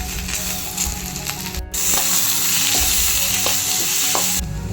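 Ground masala paste, blended with a tumbler of water, stirred into a hot frying pan for pepper-garlic kuzhambu, giving a steady close sizzle with occasional scrapes and clinks of a spoon against the pan.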